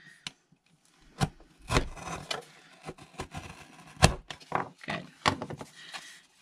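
Journal covers are cut in half with a series of irregular scraping and rasping strokes, each short and close, separated by brief pauses, with no talking.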